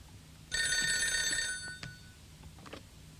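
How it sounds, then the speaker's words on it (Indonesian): A telephone bell rings loudly in a single burst of about a second, then stops, followed by faint handling clatter and quiet room noise. "Pantesan Mama tunggu telepon dari Tante Din lama bener."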